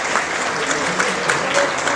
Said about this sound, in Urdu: ذرا پلیز تالیاں بجائیں